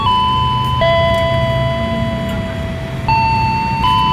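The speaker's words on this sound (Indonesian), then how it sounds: "Barusan genta elektriknya bunyi." Electric warning bell at the JPL 3A railway level crossing in Grogol ringing continuously with steady sustained tones that shift pitch twice, loud and close over street traffic rumble.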